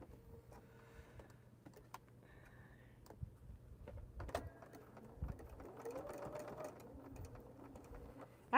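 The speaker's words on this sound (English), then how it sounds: "I'm just sewing" A sewing machine pieces quilt triangles with a soft, steady whirring stitch that pauses and restarts several times. The running stretches grow longer toward the end. Quiet handling clicks fill the breaks, and no one speaks.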